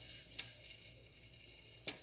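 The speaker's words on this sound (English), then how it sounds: "I'm starting to hear a sizzle" Soft, steady sizzling of chicken in a hot pan, with a couple of faint clicks of a utensil against it.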